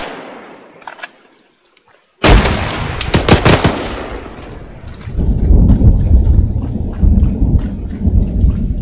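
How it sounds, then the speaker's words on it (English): A grenade goes off during an ARMA 3 military mission, a sudden booming blast after a brief hush, followed by rolling, crackling debris and rumbling echoes that stay loud for several seconds, with no speech heard over it. "Grenade out!"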